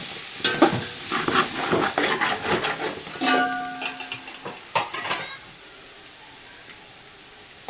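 Homemade masala gets stirred into mutton biryani in a pan: a spatula scrapes and clatters against the metal in busy bursts over a moist sizzle, then the sound fades to near quiet.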